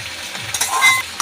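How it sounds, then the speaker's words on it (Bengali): Fried puti fish stirred into a tomato gravy in a pan: a close scraping stir over a soft bubbling sizzle, with a few louder scrapes. "এবার সমস্ত মাছগুলোকে ভালো করে ঝোলের সঙ্গে মাখিয়ে কিছুক্ষণ রান্না করলেই"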